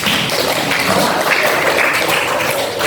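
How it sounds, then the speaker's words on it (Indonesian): Students in a teacher-training session for CGP cohort 9 give a steady, dense round of applause that fills the whole moment at an even loudness. "Tepuk tangan buat kalian"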